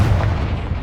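The Confringo blasting spell from the game Hogwarts Legacy, a loud, close, rumbling explosive burst that fills the whole moment with deep roaring noise.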